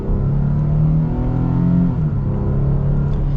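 A 2024 Nissan Frontier PRO-4X truck accelerates with its 9-speed transmission, a steady loud engine drone heard from inside the cab, rising in pitch and shifting quickly between gears.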